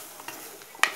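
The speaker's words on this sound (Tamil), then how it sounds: "நல்லா இந்த மாதிரி மிக்ஸ் பண்ணிப்போம்" Beetroot curry being stirred in a pan, a soft scraping and faint sizzle with one sharper spoon scrape near the end, no talking.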